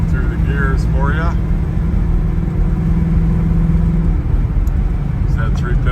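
1972 Chevrolet Nova Yenko clone with an automatic transmission pulls away hard, its engine a steady, loud low rumble that builds briefly, with voices heard over it early on.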